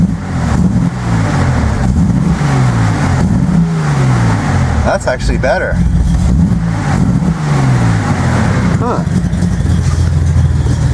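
A Datsun 240Z idles lumpy and rough in neutral, then revs up and settles in rising and falling sweeps. The engine runs close and loud throughout, with someone talking briefly over it.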